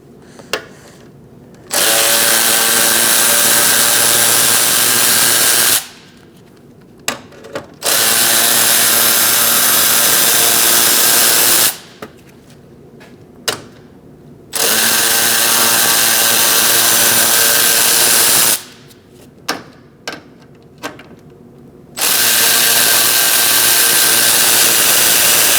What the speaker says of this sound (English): Using a 7mm socket, we're going to remove these 4 bolts.